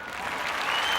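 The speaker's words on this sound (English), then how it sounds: "Cue the applause." Steady applause from a crowd, a dense wash of clapping held at an even level across the whole short stretch with no breaks.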